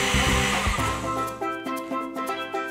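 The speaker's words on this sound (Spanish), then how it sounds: "enciende la batidora" A blender grinds hard peanuts with water into a fine paste for homemade peanut milk, a loud steady motor whir with rising and falling pitch as the load churns, close up and alone.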